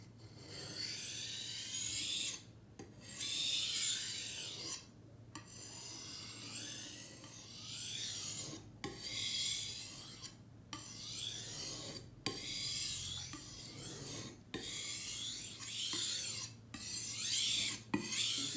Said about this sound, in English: It's really better than any other knife sharpener.